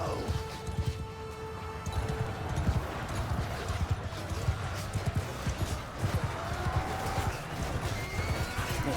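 Horses in the Mount & Blade II Bannerlord video game thunder past in a pounding gallop, with repeated neighs and whinnies rising over a busy battle din of clashes and shouts.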